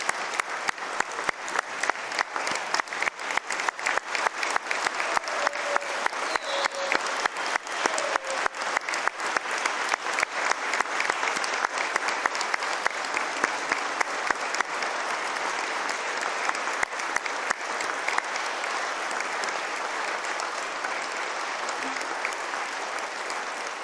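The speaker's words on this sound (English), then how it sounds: "Let's give them a big round of applause." Audience applause at a governor's State of the Commonwealth address, sustained and even for the whole stretch, dense clapping from a large crowd in a hall.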